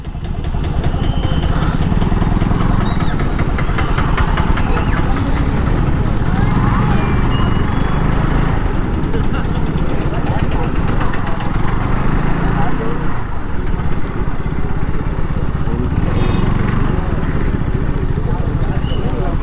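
A motorcycle engine runs steadily throughout while the bike is being parked near the Raja Seat viewpoint in Coorg, a continuous low rumble with speech over it.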